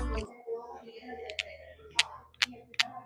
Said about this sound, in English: It's like little frog instruments. They make like a frog sound.